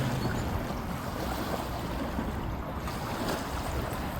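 Grand River floodwater in Grand Rapids pouring fast over a submerged sidewalk, a steady broadband rush and roar of current with wind buffeting the microphone, no voices.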